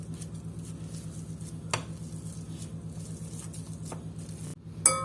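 Potato ball stuffing being mixed with spices, coriander and green chillies, giving a steady soft squishy patter and stirring texture under a constant low hum, with a few sharper scrapes near the end.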